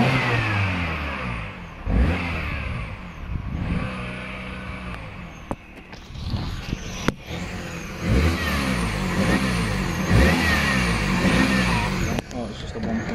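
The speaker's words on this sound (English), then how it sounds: "sort out this exhaust blow, because as you can hear" A Peugeot 308 1.6 petrol engine with a blowing exhaust flex pipe revs up and idles down repeatedly, its rasping, puffing exhaust note rising and falling close by, with a person talking over it in places.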